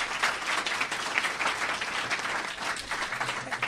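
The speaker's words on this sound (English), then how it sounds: "Can we get a round of applause for our moderator and panel?" An audience at a panel discussion applauds steadily for the moderator and panelists, a dense, even wash of clapping from many hands that holds for several seconds with no voices over it.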